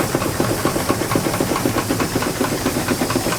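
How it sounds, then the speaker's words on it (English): A miniature Worthington duplex steam pump runs with a steady, rapid mechanical chuffing and clicking over a constant hiss of steam, close and fairly loud, with no talking. "This is a Worthington duplex pump, it's always been kind of a bear."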